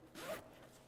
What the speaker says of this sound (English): Zip pocket as well.